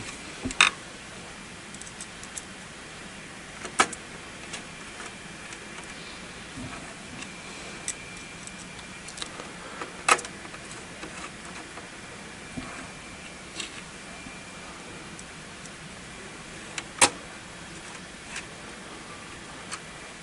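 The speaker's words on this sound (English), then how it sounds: "Last, we have to screw in the 3 screws." Three screws driven into a Cisco ISR 800 daughtercard, heard as faint sparse ticks and small clicks over quiet hiss, no talk.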